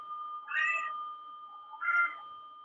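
Two clear meows from a cat at a door, spaced about a second apart over a steady background hum, with no talk.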